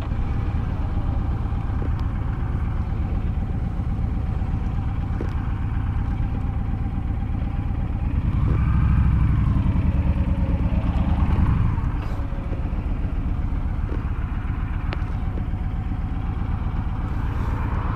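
A 2007 Honda VTX1300 motorcycle with a trike conversion rides along, its engine giving a steady, close, mid-pitched rumble that swells briefly around the middle, where it is downshifted.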